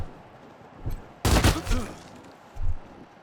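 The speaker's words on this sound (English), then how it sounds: "let's gun him down" Gunfire in the video game Wasteland 3, a sudden loud burst of rapid shots lasting about half a second, followed by a couple of lower thuds and a later dull impact.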